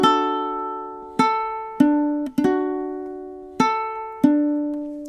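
Ukulele strumming chords from measure 3 of a song, with six or so separate strums at a slow, uneven pace, each ringing out and fading, played alone and moderately quiet.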